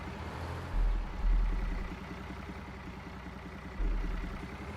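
A front loader tractor engine in Farming Simulator 19 drones with a steady low idle that swells slightly in a few places, sounding close and alone.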